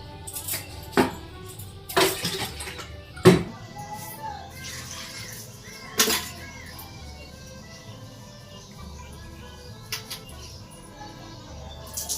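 Rice being washed in water gives intermittent splashes and sharp clinks of a vessel, separated by quieter stretches with faint background sounds.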